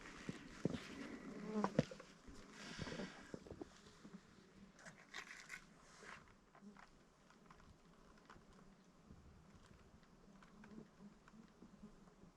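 Swarms of midges whine steadily around the listener outdoors in the Putorana plateau wilderness, a continuous thin buzzing close by, with occasional scrapes and rustles of movement and no talk.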